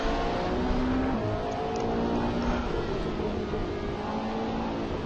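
A Lamborghini Aventador GT3 race car in Assetto Corsa, its engine howling loud and close at high revs with shifting pitch as it drives a circuit.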